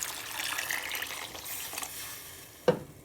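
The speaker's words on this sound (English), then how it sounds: "we're going to add 6 cups of water" Water pours into a pot of fat-free black bean soup with mirepoix, a steady splashing hiss that ends in a sharp knock near the finish.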